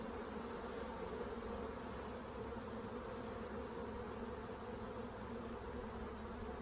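Honey bees in an open hive during a summer inspection make a dense, steady buzzing drone that fills the whole stretch, close and continuous with no talk.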